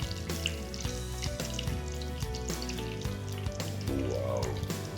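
Ice cream drops into very hot oil for a quick fry, bubbling and crackling steadily at close range with a dense, tonal, music-like layer over the sizzle.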